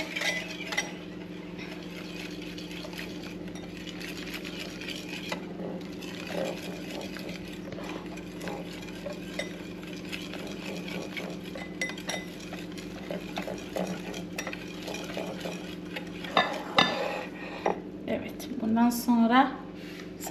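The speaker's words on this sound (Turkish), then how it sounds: "Güzelce karıştırıyorum arkadaşlar." A spoon stirs a mixture in a bowl while preparing a Turkish breakfast, a steady scraping rhythm with light clinks of utensil against the dish, continuing under a voice talking throughout.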